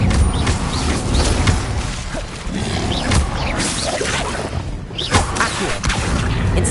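An Incendio fire spell in Hogwarts Legacy, a loud roaring, crackling burst of spell effects mixed with whooshes and impacts, continuous and close over several seconds.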